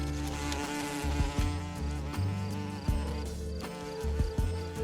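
A steady buzz of bees flying among flowering heather on a Polish heath, layered wingbeat hums close and constant, with tones rising and falling as insects pass, no voices.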